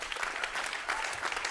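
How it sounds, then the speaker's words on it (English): Audience applause at the close of an online Saturday night concert programme at a new-music festival, a steady dense patter of many hands clapping throughout, moderately distant and without speech on top. "Give them a last round of applause."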